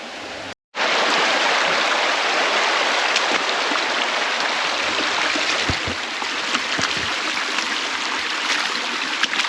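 A small waterfall rushes steadily close by, a loud, continuous splashing roar after a brief cut at the start, with no talking.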